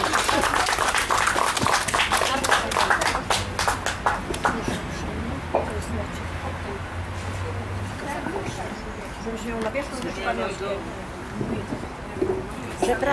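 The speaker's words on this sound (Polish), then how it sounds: "Duże brawa!" A crowd applauds with dense clapping that gradually thins out as voices murmur and talk underneath.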